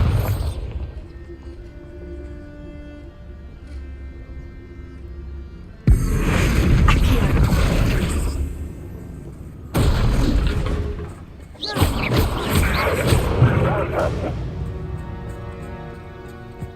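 Bombarda spell explosions in the video game Hogwarts Legacy, three loud sudden booming blasts a few seconds apart with rumbling, crackling debris tails, set over a quiet musical score.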